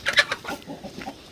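Hens clucking nearby, a few sharp clucks at the start followed by softer, lower murmuring clucks, brief and close.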